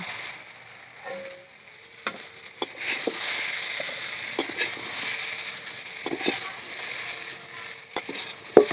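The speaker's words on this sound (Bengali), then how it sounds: "কুমড়োগুলো আমি ভালো করে ভেজে নিয়েছি" Oil sizzles steadily in a pan as pumpkin pieces fry, with a few sharp clicks and scrapes of stirring scattered throughout.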